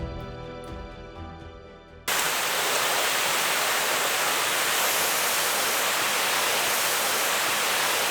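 A waterfall in Gyeongbuk, Korea, tumbling over slippery rocks. It enters abruptly after a short musical passage as a steady, loud, hissing rush that stays constant to the end.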